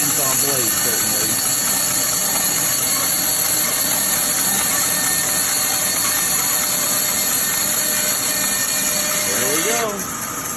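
A Jet 20-inch bandsaw fitted with a Laguna Resaw King blade resaws a wet piece of dogwood, giving a steady, loud motor drone and cutting hiss that runs unbroken, then eases near the end.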